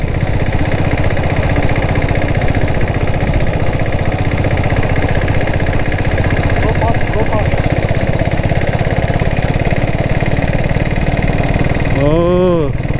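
A diesel Bullet motorcycle fitted with a 7.5 HP engine and turbo runs steadily while being ridden, giving a loud, continuous low engine drone throughout, with a brief rising whine near the end.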